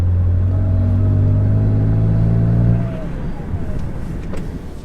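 A BMW with an N54 engine drives toward the highway, its steady engine drone holding for a few seconds before easing off to a lower rumble of road and cabin noise.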